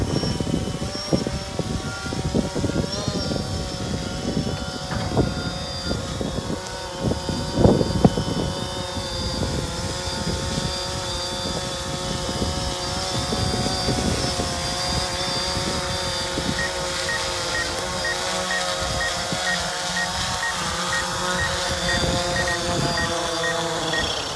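A DJI Phantom or Mavic drone flies nearby with a steady, high-pitched whine of spinning propellers that holds alone and continuously throughout, its pitch shifting slightly as it moves.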